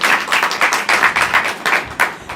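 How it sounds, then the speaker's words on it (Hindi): An audience claps hands in rhythm at a house program, with quick, evenly spaced claps running steadily throughout and no talking. "ताली तो आप लोग बजाए नहीं हैं"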